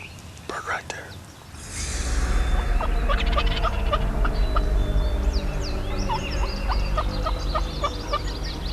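A wild turkey gobbler gobbles while strutting toward a hen during a spring hunt in Illinois. Loud, rattling gobbles repeat over a steady low rumble, with other birds chirping around them.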